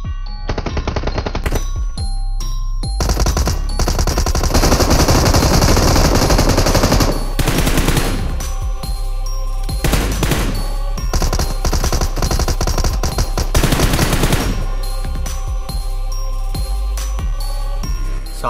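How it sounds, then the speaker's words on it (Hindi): Sustained machine gun fire rattles through a PUBG battle, loud and close, with rapid bursts continuing almost without pause and bright metallic clinks scattered through the barrage. "सालों ने अचानक से ही फायर कर दिया मेरे पे।"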